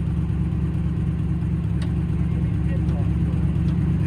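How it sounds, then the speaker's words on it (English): A Leyland Martian recovery truck's engine runs steadily with the throttle turned up, a loud, even low rumble with no clear surges, while people talk nearby. "so throttle is now turned up"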